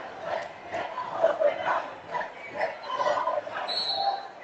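A high school student section cheers at a varsity boys basketball game between Wasatch and Maple Mountain, a rolling crowd roar that swells and dips in waves, with no clear voice above it.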